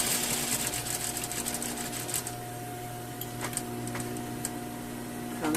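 Sewing machine running steadily through a seam on a bodice, a continuous close mechanical hum with fast needle ticking and a few faint clicks, no voices.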